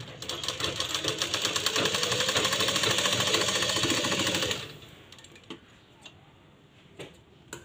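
A sewing machine stitches a fitting seam on a blouse with a loud, fast, even mechanical rattle for about four and a half seconds, then stops, leaving a few faint clicks and handling sounds.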